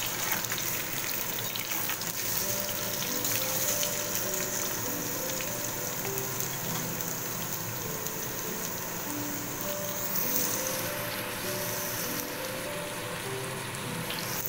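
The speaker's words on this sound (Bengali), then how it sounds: "এবার এই আলুগুলোকে সম্পূর্ণ এর মধ্যে ছেড়ে ভেজে নেব।" Boiled potatoes fry in a pan of hot oil, giving a dense, even sizzle that holds steady and close throughout, with no voices.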